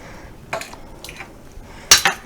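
Metal measuring spoons clink together in a kitchen, a few sharp, bright jangles in separate bursts with quiet gaps, the loudest cluster coming near the end.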